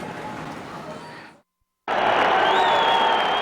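A huge baseball crowd of over 40,000 fans roars and cheers at Coors Field during a Colorado Rockies game, loud and sustained after a brief silent gap, with a steady wash of voices.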